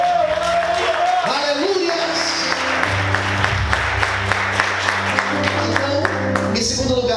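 A church congregation applauds loudly and steadily for the Lord, dense continuous clapping filling the room while a voice calls out over it and music plays underneath.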